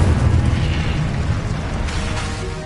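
An Incendio fire spell in Hogwarts Legacy bursts out with a heavy booming rush that starts strong and then eases into a sustained fiery roar.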